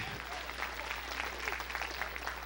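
A church congregation claps along during a Sunday evening service, a dense steady patter of hands over a low hum, with some voices mixed in.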